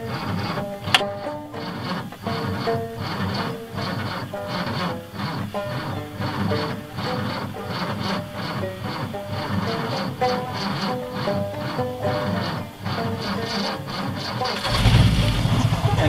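A 1955 Ford wagon's starter grinds in a steady rapid rhythm for a long stretch before the engine catches and fires near the end, loud and close with no talk over it.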